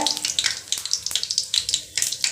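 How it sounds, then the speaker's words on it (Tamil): Steady crackling sizzle of cumin seeds frying in hot oil, with rapid popping bursts throughout, close and fairly loud, no talking. "எண்ணெய் ஊற்றி ஜீரகம் போட்டிருக்கிறேன் தாளிக்கிறதுக்கு"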